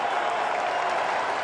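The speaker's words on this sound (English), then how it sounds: "Listen to this crowd." A stadium crowd at an FC Cincinnati vs Nashville SC soccer match roars and applauds in a dense, steady wash of sound, loud and continuous from start to finish.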